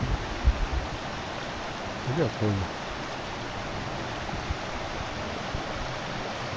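A small brook runs beside a parked motorhome after rain, a steady soft rush of flowing water close by, with brief speech and a short voiced exclamation over it.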